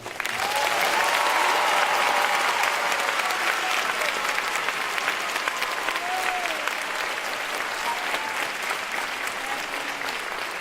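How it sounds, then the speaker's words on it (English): Loud, sustained audience applause for guest Hillary Clinton at a Historical Society event, a dense steady wash of many hands clapping with faint cheers, lasting throughout without talk. "please join me in another round of applause for our very special guest, Secretary Hillary Rodham."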